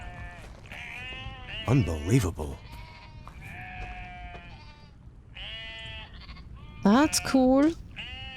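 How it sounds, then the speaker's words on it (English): Sheep in the story-driven cinematic game Once Alive bleat several times at close range. The wavering bleats cut in over a quiet background, and someone talks between and over them. "Oh, there's a lot of sheep in here."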